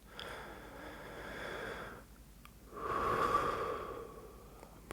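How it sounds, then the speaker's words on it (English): Slow, quiet human breathing during a bedtime wind-down meditation, a soft exhale followed by a longer, louder airy inhale through the nose, close and alone with no talk. "that sound is replaced by the sound of your breath"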